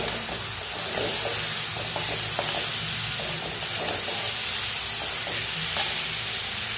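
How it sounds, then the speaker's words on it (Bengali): Spices with tomato and kasuri methi sizzle steadily in a pan while a spoon scrapes and stirs in occasional strokes, the frying hiss constant and close. "কস্তুরি মেথি দিয়ে এক দুবার নাড়াচাড়া করে নিয়েছি"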